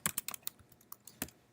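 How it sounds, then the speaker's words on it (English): Typing on a computer keyboard: a quick irregular run of close, crisp key clicks with a couple of louder taps, no voices. "typing's hard"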